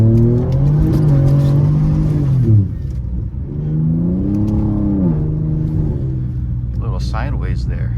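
A twin-turbo Ford Taurus SHO engine in the Forza video game, remote-started and revving in repeated rising and falling sweeps, loud and close, with a brief burst of extra noise near the end.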